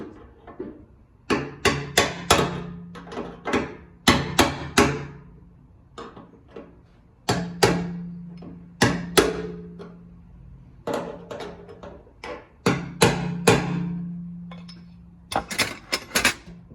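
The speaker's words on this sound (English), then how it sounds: "Usually what I use is a screwdriver and a light hammer and tap it around" Repeated light metallic taps in quick clusters with short pauses between, close and crisp, from a light hammer striking a screwdriver on a 1967 Ford Mustang fuel system part.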